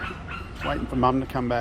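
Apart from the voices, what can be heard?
dog barking and whimpering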